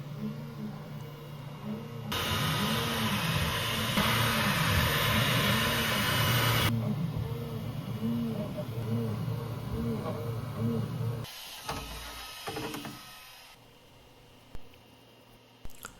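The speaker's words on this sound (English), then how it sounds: "Here I am printing a TPU tire." Elegoo Centauri Carbon 2 3D printer printing a TPU tire, a steady whirring hum of fans and stepper motors with rhythmic warbling movement tones, loud and close, dropping to quieter mechanical clicks and faint ticks toward the end.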